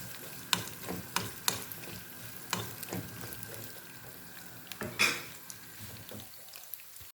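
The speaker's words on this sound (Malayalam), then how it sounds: "അണ്ടിപ്പരിപ്പ് ഇട്ട് കൊടുത്ത് ഒന്ന് ഇളക്കി കൊടുക്കാം." Cashews fry in hot ghee in a pan, a soft continuous sizzle broken by repeated sharp scraping stirs of a spoon against the pan, close up and with no talk.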